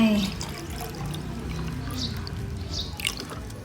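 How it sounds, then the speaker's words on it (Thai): Plain water pours into a jar to root an emerald plant cutting, a steady close trickle and splash running throughout with a few brighter drips near the end. "เติมน้ำลงไป"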